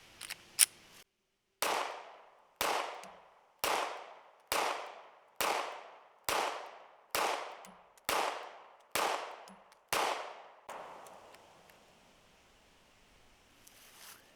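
Ten loud pistol shots from an HK CC9 handgun loaded with a 10-round magazine, fired at a steady pace about one per second, each with a sharp crack and decaying echo, followed by quiet ambient noise.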